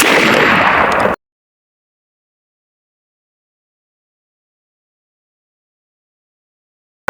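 A 12 gauge AEA Zeus air gun firing chain shot gives one loud blast lasting about a second, then dead silence.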